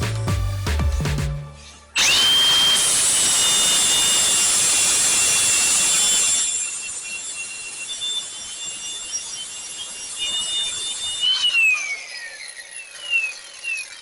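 A power tool sands a damaged wheel, starting with a clunk and then a sustained high whine and hiss that holds steady, softens partway, and trails off with a falling pitch near the end.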